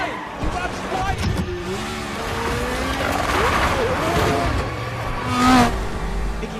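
Formula One racing cars overtaking one another on a track, engines roaring and swelling past amid crowd and commentary noise, with voices talking over the whole passage.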